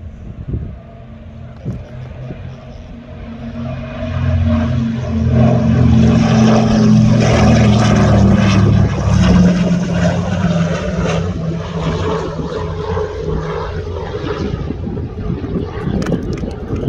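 A Douglas DC-3 propeller airplane flies past from left to right, a loud droning engine hum that swells to a peak and slowly fades, with wind noise on the microphone.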